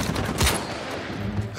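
Gunfire in Uncharted 4 during an intense firefight, with a sharp loud shot around the middle standing out over a dense, noisy combat background.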